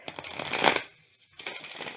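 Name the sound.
shuffling a deck of tarot cards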